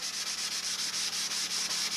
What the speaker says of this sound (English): I'm still sanding with a block with 320, getting off all the high spots.